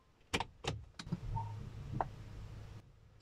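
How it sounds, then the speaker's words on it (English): A car's electric fuel pump primes as the ignition switches on: a few sharp clicks come first, then a soft, steady hum runs for about two seconds and stops, faint and close by. "Also, the fuel pump is going to prime."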